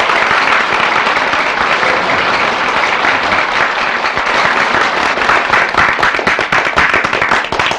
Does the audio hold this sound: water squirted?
no